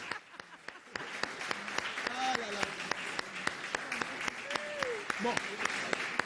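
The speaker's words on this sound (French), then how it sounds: "On ne peut vous accueillir qu'avec des applaudissements" Audience applause welcoming guests at a live event, a steady wash of clapping with sharp individual claps standing out close by, while a voice talks over it throughout.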